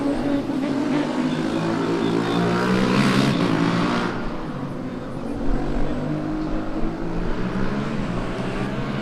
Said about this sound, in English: Esslingen still going strong, sounding angry and very loud